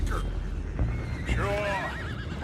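Horses whinny repeatedly in the Red Dead Redemption 2 video game, rising and falling cries over hoof clip-clop and steady background noise, with voices talking underneath.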